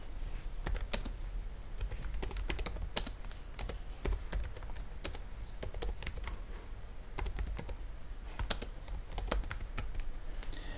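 Someone types on a computer keyboard, close and alone. Rapid, irregular clusters of crisp keystrokes are broken by brief pauses.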